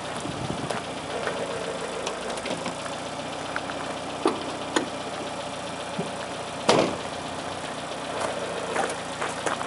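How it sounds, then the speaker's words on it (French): A 1971 Citroën DS 21 IE sits idling as its rear settles down on the hydropneumatic suspension, a constant low engine drone with occasional soft knocks and clicks, nearby and unaccompanied by speech. "La voiture descend de l'arrière"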